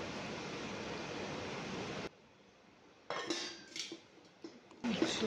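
A spoon scrapes and clinks against a bowl while chicken biryani marinade is stirred, first a steady rough mixing noise, then a few scattered metallic knocks after a short pause.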